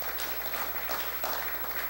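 Congregation applauding during a church sermon, steady broadband clapping filling the whole short stretch at moderate level, no voice over it.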